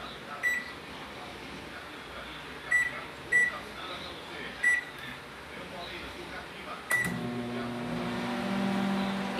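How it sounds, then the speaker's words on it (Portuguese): A microwave oven hums steadily after its door shuts and several beeps sound as the timer is set for a cake baking inside, the motor drone starting partway through. "Agora a gente vai fechar o micro-ondas. E vai dar o time aqui. Eu vou botar 10 minutos."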